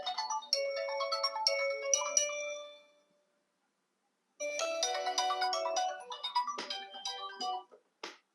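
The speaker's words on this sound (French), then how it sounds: "excusez-moi, c'est mon téléphone qui sonne." A mobile phone ringtone plays a bright, repeating electronic melody for about three seconds, pauses in silence, then starts again and carries on to the end, with no talking over it.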